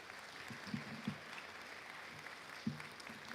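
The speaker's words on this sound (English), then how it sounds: "Let's give all of the students a round of applause for their volunteerism." An awards-night audience applauds students: a steady, fairly faint wash of clapping from a seated crowd, with a few sharper individual claps standing out over roughly three seconds.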